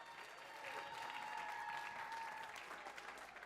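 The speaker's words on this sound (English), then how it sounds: "Let's give it up for SFJAZZ." Applause from a crowd at a jazz concert marking a human rights anniversary, steady clapping throughout, quite faint and distant, with a faint voice briefly audible over it.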